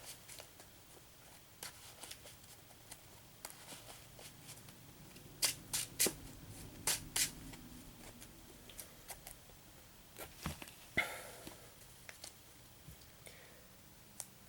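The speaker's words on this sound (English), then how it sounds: "Let me just give my deck a quick shuffle" A deck of Yu-Gi-Oh trading cards is shuffled by hand close up. It makes soft, irregular riffling and sharp clicking snaps in scattered bursts over a quiet background, with no talking.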